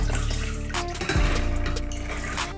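Red kidney beans and their soaking water pour into a cooking pot, a steady splashing, gurgling liquid stream with a clunk partway through, close and alone.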